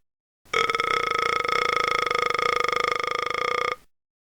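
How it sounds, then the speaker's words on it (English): A long, loud, steady burp lasting about three seconds after drinking soda to cure hiccups, with a sustained buzzing, tonal quality and an abrupt start and stop. "Just try burping them out."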